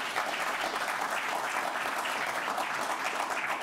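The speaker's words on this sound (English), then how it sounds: "One last little round of applause, if you would." Audience in a hall applauding a panel, a close, loud and steady round of clapping throughout.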